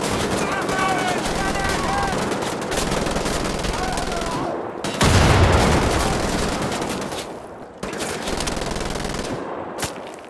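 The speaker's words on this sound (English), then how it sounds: "And there are people shooting. I hear them." Sustained gunfire from people shooting in the World War II shooter game Wolfenstein: The Old Blood, loud machine-gun bursts rattling almost continuously, with a heavier blast near the middle and a voice talking underneath.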